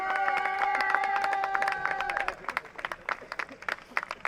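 Scattered, sparse clapping from a small crowd follows a sustained tonal sound at a karting Winter Cup X30 Senior final podium, the claps uneven and moderately distant.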